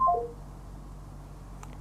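Telephone keypad tones dialed for a call-in quiz on a religious talk program, a short run of beeps at the start, then faint room hiss.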